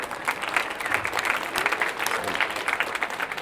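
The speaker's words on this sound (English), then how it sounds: "Give yourself a round of applause" A crowd at an event gives steady, moderately loud applause, dense clapping sustained throughout the short stretch with a few voices faintly mixed in.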